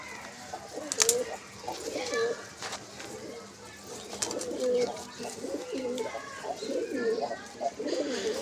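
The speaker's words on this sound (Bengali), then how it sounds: "সব অনেক পায়রা আছে।" Several pigeons in a loft coo in repeated low, throaty bursts, fairly close, with voices talking now and then among them.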